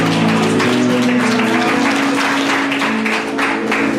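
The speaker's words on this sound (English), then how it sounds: "Give a clap offering for Jesus this morning." A church congregation claps together in a dense, sustained burst of applause during a service, over music playing in the background.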